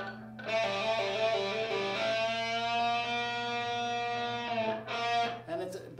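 Distorted electric guitar rings out a sustained note, a quick hammered-on change and then a note bent upward, loud and clean with no talking.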